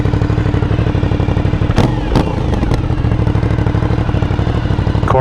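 A 2020 Aprilia Dorsoduro 900 motorcycle idles steadily with a fancy aftermarket exhaust, a loud, close, even engine throb running throughout with a couple of brief clatters partway through.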